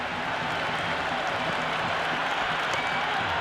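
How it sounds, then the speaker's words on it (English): A crowd buzzing in the stands during an IPL match between KKR and SRH in the video game Cricket 26, heard as a steady, dense roar of cheering and clapping with no break. "There's a buzz, a real buzz coming from the stands."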